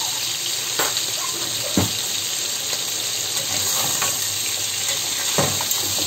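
Ground cumin and paprika sizzling in a pan with oil, a steady bright frying hiss with occasional scraping knocks from stirring, faint voice in the background.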